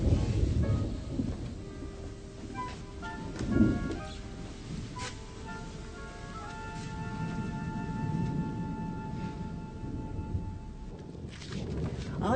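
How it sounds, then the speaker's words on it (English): Thunder rumbles low and heavy under a steady wash of rain, with a louder roll partway through and a faint tonal hum running alongside. "I fear a storm."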